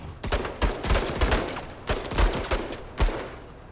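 Rapid bursts of gunfire in the video game Menace, a marine firing in quick volleys with an autocannon nearby; sharp repeated shots in clusters, loud and close, with no talking.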